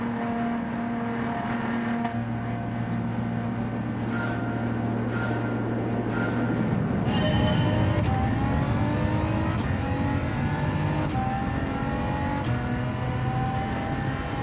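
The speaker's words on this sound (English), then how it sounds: "Yeah, that car launched good." Race car launching at the start of a Manufacturer Cup exhibition race, engines holding a steady idle drone before revving up sharply around the middle and pulling away into a sustained, climbing roar.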